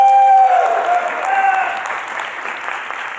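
Conference audience voting by noise: loud clapping mixed with cheers and a sustained shout at the start, fading slightly as the applause carries on.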